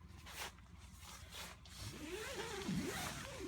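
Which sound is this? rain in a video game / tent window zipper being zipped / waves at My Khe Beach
tent window zipper being zipped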